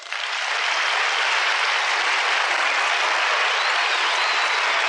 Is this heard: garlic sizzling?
no